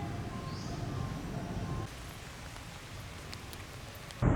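Rain falls steadily during a Chiang Mai, Thailand visit among temples, a soft even hiss heavier at first and then lighter, with a sudden louder thump at the very end.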